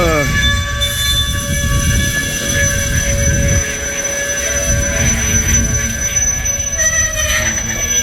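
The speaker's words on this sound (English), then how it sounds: "Boy, that thing's loud. The brakes." Loud, sustained high-pitched squealing of freight train brakes over a heavy rumble of rolling wheels, continuing steadily throughout, as a slow-moving eastbound stone train led by Wheeling & Lake Erie locomotives passes through Medina, Ohio.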